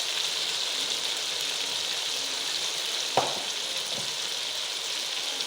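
Desi chicken sizzles steadily while being bhuna-fried in a pan, a continuous close frying hiss with a couple of brief scrapes or stirs partway through, no voices.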